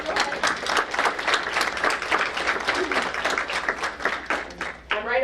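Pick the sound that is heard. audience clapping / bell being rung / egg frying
audience clapping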